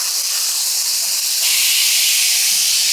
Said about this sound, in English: See that sizzle? You hear it, you smell it